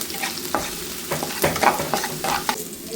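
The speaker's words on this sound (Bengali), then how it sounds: "দেখুন রসুনের ফোড়ন একদম রেডি।" Garlic tempering sizzles and crackles in hot oil for a nehari or paya dish, with quiet frying hiss and soft stirring scrapes coming in irregular bursts, close by and with no talk.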